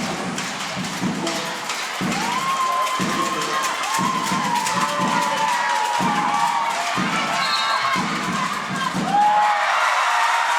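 A home crowd in a sports arena at a women's basketball game between China and Germany cheers and roars continuously, with rhythmic bursts of chanting or clapping and some shouts rising over the din.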